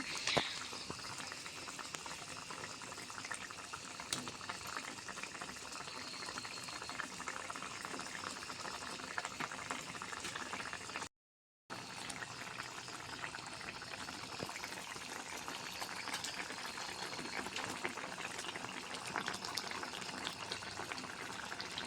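Pabda fish curry with mustard paste simmering in a pan, a steady soft bubbling and hiss throughout, interrupted once by a brief silent gap, with no talk.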